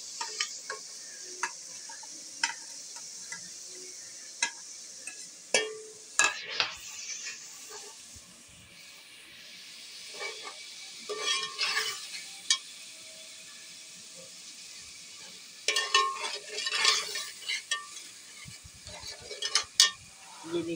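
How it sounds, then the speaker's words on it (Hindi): Spices are stirred into softened tomatoes in a cooking pot for beef qorma, with soft frying sizzle under intermittent spoon scrapes and clinks against the pot, rising and falling across the stretch. "अब इसके अंदर मैं तमाम मसाले मिक्स कर रही हूँ।"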